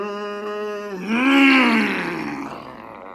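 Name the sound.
voice imitating a bad noise from a failing Ford car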